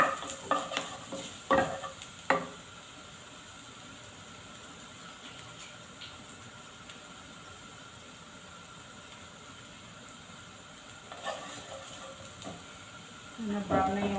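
Spinach stir-fried in a pan with oyster sauce and soy sauce at a campground: clattering utensil scrapes and stirring at the start and end, with a soft, steady sizzle in between.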